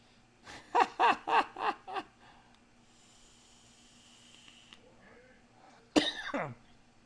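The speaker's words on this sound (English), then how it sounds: "now I'm coughing for no damn reason." A burst of five rapid coughs close by, then a quiet pause with faint hiss, followed by one more harsh cough.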